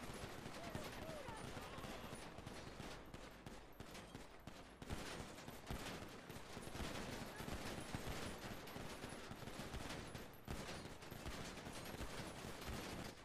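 Gunfire rattles through a roleplay gang fight in a video game set in Nepal, dense bursts and fusillades of shots continuing throughout with voices talking underneath.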